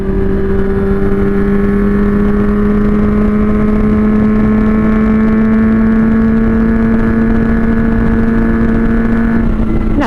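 A Honda CB400 Four four-cylinder motorcycle cruises in top gear, probably fifth, with a loud, steady engine drone whose pitch creeps slightly upward, heard close and continuously with wind noise.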